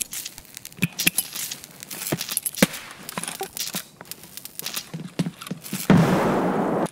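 Grenade blast in a shooter video game, a sudden loud broadband burst near the end following a stretch of scattered clicks and small pops.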